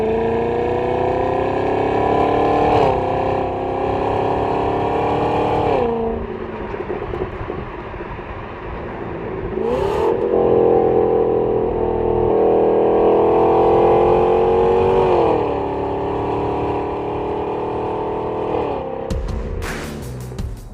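A 2016 Cadillac CTS-V with a 640-horsepower V8 accelerates hard, its loud engine note climbing in pitch through rising sweeps, dropping briefly at gear changes, then pulling again, heard from inside the car without speech.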